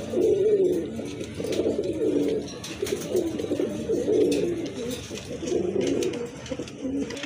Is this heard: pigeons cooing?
yes